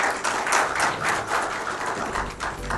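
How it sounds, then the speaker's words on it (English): An audience at a TiE Chandigarh business talk applauds to welcome a speaker onto the stage, a dense, continuous burst of hand clapping from a seated crowd, fairly close and steady for nearly three seconds. "can I have a round applause from the audience for the same"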